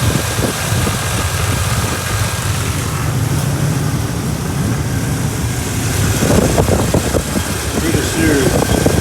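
A small block Chevy V8 idles roughly with a random misfire, in a Pontiac Grand Prix G-body, a steady low rumble with uneven shaking throughout, growing slightly louder and choppier toward the end.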